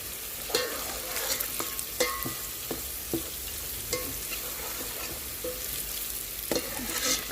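A spoon stirs chilli powder into sausage chutney in a hot pan, giving steady scraping and clinking strokes over a continuous soft sizzle of frying, close and with no talk.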